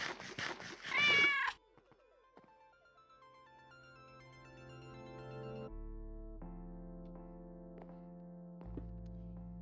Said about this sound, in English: Thank you, Mousy, for the cat noise.